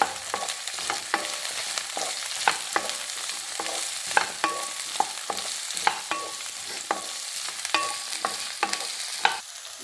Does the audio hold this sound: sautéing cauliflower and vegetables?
yes